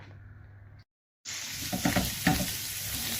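Onions hit a hot pan coated in caramelized beef drippings and burst into a loud, steady sizzle after a brief silence. Stirring scrapes come through twice over the frying.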